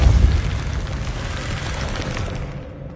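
Depulso force spell cast in Hogwarts Legacy, a deep booming blast that hits loud at the start and then rolls off into a long, rumbling, noisy tail.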